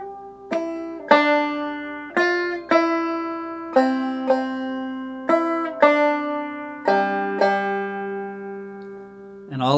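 Clawhammer banjo plays I Saw Three Ships without slides, a steady sequence of about a dozen bright, ringing plucked notes and strums, close and solo.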